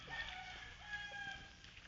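Faint clucking and distant crowing from chickens on a farm carry over a quiet outdoor background, soft and a little muffled.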